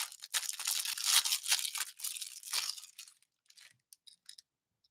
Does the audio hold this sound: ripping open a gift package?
yes